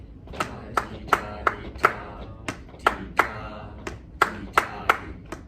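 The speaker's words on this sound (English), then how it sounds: "I'm going to clap, okay?" A teacher claps a rhythm pulse during a student-teaching lesson on reading rhythms: sharp, close hand claps in an uneven pattern of pairs and singles, about fifteen in all, alone and clearly separated.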